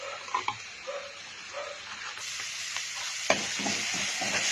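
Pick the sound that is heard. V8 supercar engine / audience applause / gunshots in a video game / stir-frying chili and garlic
stir-frying chili and garlic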